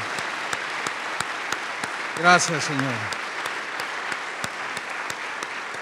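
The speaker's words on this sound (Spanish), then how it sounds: "Dale un aplauso fuerte al Señor" A church congregation claps steadily in praise at Casa de Oración Houston, a sustained patter of many hands, with a voice briefly speaking over it midway.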